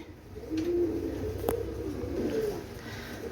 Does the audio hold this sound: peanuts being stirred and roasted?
no